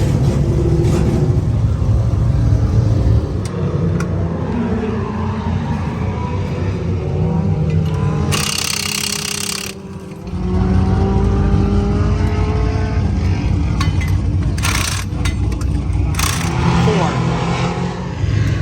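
Race car driving laps on a slick track: a loud, continuous engine roar with revving swells that briefly fades around the middle before surging back, heard up close with no clear talking.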